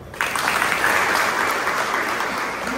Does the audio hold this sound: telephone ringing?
no